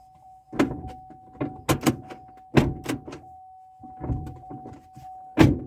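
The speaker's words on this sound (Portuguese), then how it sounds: "Fechou a porta." A Chevrolet car door is opened and shut with several sharp thunks and rattles spread across the moment, while a steady electronic chime tone runs underneath.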